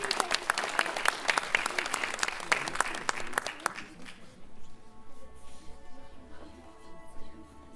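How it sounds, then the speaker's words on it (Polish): Audience applause at a sports gala: sharp, distinct claps from a crowd for about four seconds, then fading out into quieter room sound with some faint talk in the background. "I jeszcze raz wielkie brawa."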